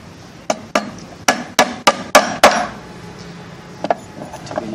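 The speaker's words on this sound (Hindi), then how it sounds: "कील लगा लेते हैं।" Nails hammered into a wooden bee box entrance gate give a run of about eight sharp, loud, evenly spaced blows, then a pause and a couple of lighter taps.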